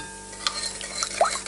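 Salt is stirred into water warming in a pot for hot-salting spruce milk-cap mushrooms, a soft scraping swirl with light clinks of a utensil against the pot over a steady background hiss.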